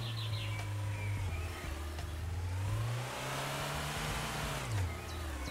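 A car drives in Trader Life Simulator 2, its steady mid-pitched engine hum rising and falling as it revs and eases off, continuous and fairly close with no talk over it.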